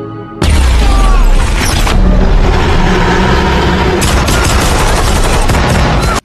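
Loud booms and rapid bursts of gunfire crash over one another, dense and chaotic, with a sharp blast and no voices.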